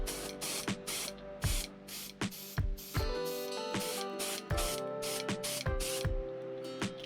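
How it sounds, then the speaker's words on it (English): Bursts from a spray gun apply aluminum paint over white on a fishing lure, coming as a series of short, sharp hissing blasts in an uneven rhythm with a faint tonal hum between them, close and fairly quiet. "the next color I have in my gun is going to be an aluminum, and I'm going to spray it right over the white"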